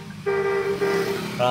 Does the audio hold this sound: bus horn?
yes